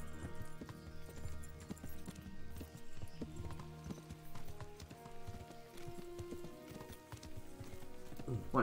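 Video game horse hooves clip-clop in a steady, brisk rhythm on a hard surface, fairly close and continuous throughout, with no talking over them.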